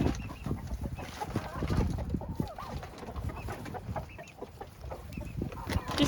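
Backyard chickens clucking and squawking in a busy flock, calls overlapping close by at feeding time, with an occasional faint voice in the background.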